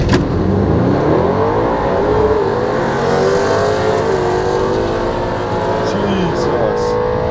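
A modified 2018 Audi RS7 on flex fuel launching hard at a drag race, its engine roaring loud and close as the pitch climbs through rising gears, with occupants' voices over the noise.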